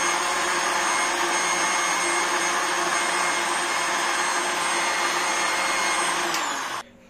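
A grinder machine blends mango shake with Rooh Afza syrup: a loud, steady whirring roar running continuously for nearly seven seconds before cutting off abruptly.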